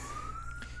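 A steady siren tone, slowly rising in pitch, runs over low background rumble through the whole short stretch, moderately loud and fairly distant.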